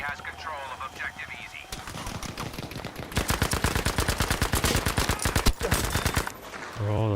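Rapid automatic gunfire in a first-person shooter video game, dense bursts of sharp rattling shots over several seconds, loud and close, with scattered sound effects and game noise around them.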